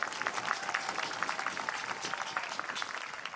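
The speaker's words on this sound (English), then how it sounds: "Give them another round of applause, if you will." Applause rings out for honored guests at a university commencement, a steady crowd clapping that holds evenly for a few seconds.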